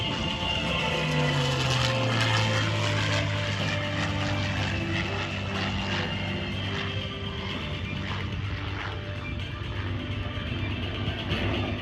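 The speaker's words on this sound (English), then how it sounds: "the P-51." A P-51 Mustang propeller fighter roars past at an airshow, its loud engine drone holding steady with a falling pitch sweep early on, continuous and close for the whole stretch with no talking.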